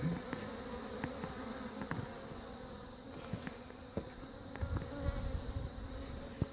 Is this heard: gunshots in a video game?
no